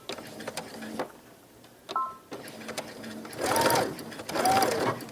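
Domestic sewing machine tacking feathers to the hem of a Simplicity S9820 glam dress, stitching forward then in reverse: two close, whirring runs of rapid stitching near the end, after quieter handling clicks.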